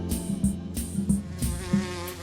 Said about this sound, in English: Carpenter bee.